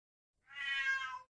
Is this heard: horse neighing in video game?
no